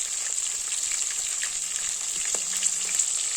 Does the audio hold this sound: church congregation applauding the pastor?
no